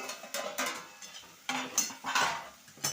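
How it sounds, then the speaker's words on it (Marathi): Metal clatters against a pan of vegetable curry as a lid is set on it, a few sharp clinks and knocks close by, spread unevenly over a short stretch. "पाच मिनटं झाकण ठेवून घेणार आहे आपण आता"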